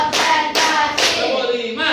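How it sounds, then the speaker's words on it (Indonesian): A classroom of students clapping in unison, about four crisp claps spaced roughly half a second apart, close and loud, with a voice speaking between them. "tepuk tangan untuk kita semuanya. Tepuk satu. Tepuk dua. Tepuk tiga. Tepuk empat."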